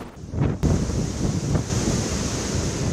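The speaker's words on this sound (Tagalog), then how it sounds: "Sumisipol ang napakalakas na hangin sa Gonzaga, Cagayan." Strong storm wind blasting across the coast at Gonzaga, Cagayan, with high waves surging against the shore, a steady loud roar of gusts and surf with no voices.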